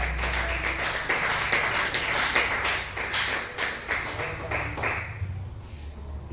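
A church congregation claps together during a sermon, a dense run of quick hand claps for several seconds that thins out toward the end, moderately distant in a reverberant hall.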